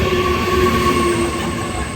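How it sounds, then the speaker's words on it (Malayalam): A train in Germany bound for Stralsund rumbles along from inside the carriage, a loud steady roar with faint wheel squeal and no voices. "ഞങ്ങളിത് കാത്തിരുന്ന് ഈ ട്രെയിനിൽ കയറി സ്ട്രാൽസുണ്ടിലേക്ക് പോയിക്കൊണ്ടിരിക്കുകയാണ്."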